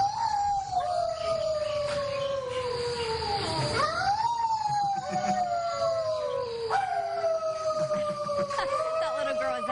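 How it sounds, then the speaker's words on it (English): Community members howl at the moon at 8 p.m. in Northwest Arkansas, their long drawn-out human howls sliding and rising in overlapping waves, with a siren-like wail beneath. "People in the community howling at the moon at 8 p.m."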